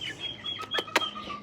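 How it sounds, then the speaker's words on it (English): A backyard chicken by its coop gives a few short, sharp clucks close by, set against quiet outdoor background noise. "So chicken of the week is you, Roger."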